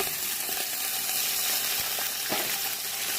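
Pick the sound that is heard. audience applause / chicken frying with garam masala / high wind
chicken frying with garam masala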